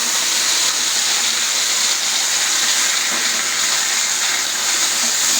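Leafy greens poured into hot oil already seasoned with nigella seeds, dried red chillies and ginger give off a loud, steady sizzling hiss that holds without a break from start to end.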